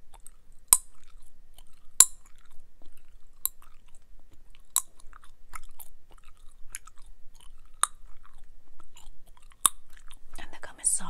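Orbit spearmint gum being chewed and snapped close to the mic: sharp, isolated pops at irregular intervals over soft, quiet, wet chewing in an otherwise hushed setting.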